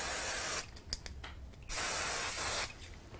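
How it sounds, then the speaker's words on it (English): Two quick bursts from an aerosol spray can misting a handmade mermaid-shell craft card, each a close, bright hiss lasting about a second, separated by a short pause with small clicks. "So we're going to give it a quick spray."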